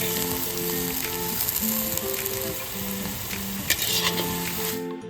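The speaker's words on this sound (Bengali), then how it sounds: "পেঁয়াজ ভালো করে ভেজে নিয়েছি" Steady, close sizzling of onions frying in a hot pan, with occasional stirring scrapes and a clear hum of background noise throughout.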